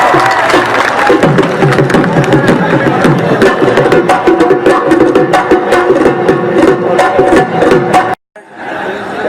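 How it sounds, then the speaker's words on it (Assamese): An audience at a live stage show in Guwahati claps and cheers loudly and continuously, with dense rapid applause and crowd shouting that cuts off abruptly near the end. "ইয়াৰ কাৰণে এটা হাত চাপৰি বজাওক"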